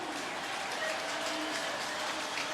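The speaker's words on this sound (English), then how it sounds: "An enormous cheer" A roaring crowd at the Paris-Roubaix 2007 velodrome greets Stuart O'Grady's entry with a broad, steady cheer and clapping heard from a distance.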